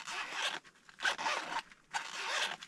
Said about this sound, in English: zip opening thing.